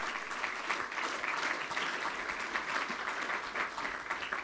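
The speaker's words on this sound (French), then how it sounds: "Merci de l'applaudir." Steady applause from a sizeable crowd, dense clapping that holds at an even level throughout.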